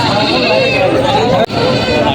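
Anglo-Nubian goats bleat in a wavering call at a livestock market in Padre Garcia, Batangas, heard under steady crowd chatter and talk, with a brief cut partway through.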